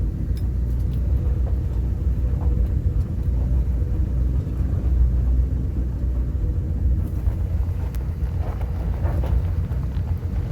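A vehicle, driven with the front hubs unlocked, rolls down a steep hill off-road, its broad low rumble steady and close, mixed with buffeting wind noise and no talking.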